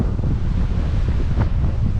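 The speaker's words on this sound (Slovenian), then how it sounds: "Danes pa zelo piha." Strong wind blows at a hotel in Hurghada, Egypt, a steady loud low roar buffeting the microphone with no pauses, alone without speech.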